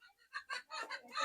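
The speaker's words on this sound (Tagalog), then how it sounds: "Ayan mga manok." Chickens clucking close by in a short burst of several quick, choppy clucks, fairly faint, with no other noise around them.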